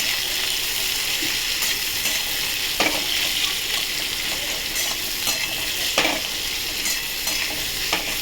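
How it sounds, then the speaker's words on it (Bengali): Two medium onions fry in oil with nigella seeds in a pan for a Bengali tangra fish curry, a steady close sizzle with occasional stirring scrapes and no talk. "পেঁয়াজটা ভেজে ফিরছি।"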